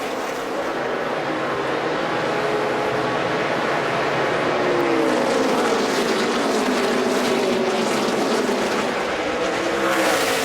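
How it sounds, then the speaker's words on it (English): NASCAR Nationwide Series stock cars at the 2012 Pioneer Hi-Bred 250 race, engines roaring loudly and continuously as a pack passes, with rising and falling pitch from several cars. "that motor in that 54 car really took over from there"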